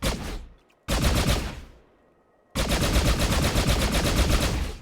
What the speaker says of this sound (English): How does this machine gun work?